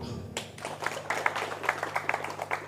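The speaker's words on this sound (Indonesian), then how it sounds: "Tepuk tangan dulu." An audience at a talk breaks into clapping, a scattered patter of hands that starts suddenly and keeps going at moderate loudness.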